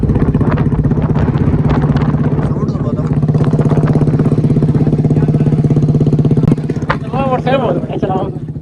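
A motorcycle engine runs close by with a steady throbbing idle and even pulsing rhythm, holding loud for several seconds before cutting back as men chat over it.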